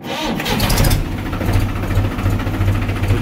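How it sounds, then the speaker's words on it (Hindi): A modern push-button-start farm tractor engine runs steadily at idle after starting, its low diesel rumble loud and continuous, close by with no talking. "ये है जी पुश बटन, मतलब पुश बटन स्टार्ट ट्रैक्टर हमारा"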